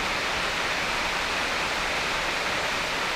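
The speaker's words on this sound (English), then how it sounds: "It's raining, so that's what the noise you can hear" Steady rain falling near a motor museum, a dense, even hiss with no breaks or distinct drops, moderately loud and continuous throughout.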